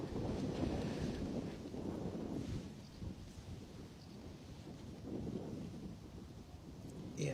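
Gusty wind at Bristol Airport, a low rumbling roar that rises and falls in waves, loud at first and easing slightly before picking up again, no speech.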